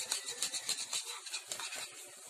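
A cornstarch and water mixture gets stirred in a pan, the spoon scraping and sloshing in quick, close, repeated strokes.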